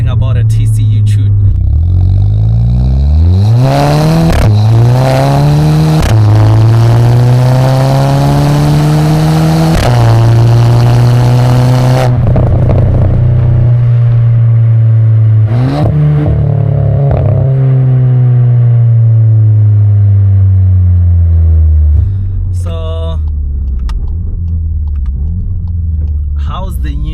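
A tuned Stage 1+ VW Polo GTI engine is loud and close. It revs up in rising sweeps, holds a droning buzz against the rev limiter, drops and climbs again, then settles to a low idle. Someone talks over parts of it.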